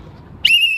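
A teacher blows a whistle at netball practice: one sharp, loud blast starting partway through and holding to the end, after a stretch of low background murmur.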